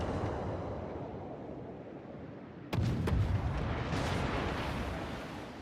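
Battleship main guns fire in World of Warships, a sudden heavy boom with a second sharp blast right after, both rolling over a constant sea and engine rumble.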